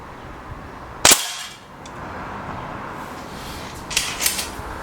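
A gun fires once: a single sharp, loud crack early on, followed by a quiet background and a few faint clicks.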